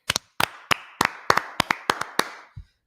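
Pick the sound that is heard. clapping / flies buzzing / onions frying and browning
clapping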